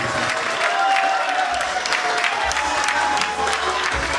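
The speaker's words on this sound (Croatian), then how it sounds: "I sada jedan najjači aplauz za naše mladince" A crowd claps continuously, a dense wash of applause filling the space, steady and loud from start to finish.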